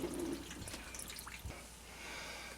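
Water gushing and dripping as a Kenmore Elite HE3t washer that would not drain is opened up, a soft trickling splash at moderate distance with no voices.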